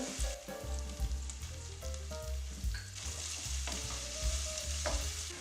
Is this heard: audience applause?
no